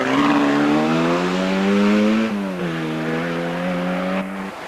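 Mini rally car at the 1988 Wicklow Rally, engine note held high and strained as it passes close, pitch dipping briefly mid-pass before climbing again and fading slightly at the end.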